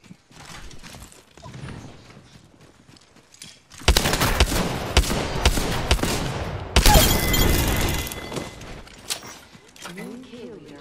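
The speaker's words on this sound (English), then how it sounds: "Taking fire, friends." Apex Legends gunfire erupts after a quieter stretch, with loud, sustained bursts of shots and clattering action dominating the middle, then a second heavy volley before fading; game voices are heard talking.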